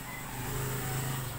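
A Jetmatic water pump motor starting after its capacitor was replaced, giving a faint, steady low hum that runs evenly through the short moment.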